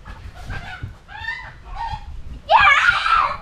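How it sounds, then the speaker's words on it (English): A rooster caught in a sticky trap gives a few short squawking calls, then bursts into a loud, harsh scream that lasts about a second near the end. "There's a rooster, there's one of the roosters."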